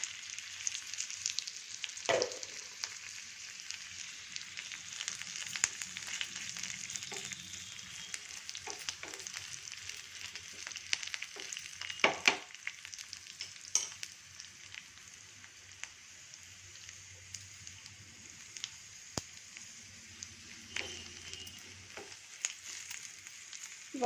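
Green chillies, a dry red chilli and curry leaves sizzle steadily in oil in a pan, with a continuous crackling fry and occasional louder pops and stirring scrapes.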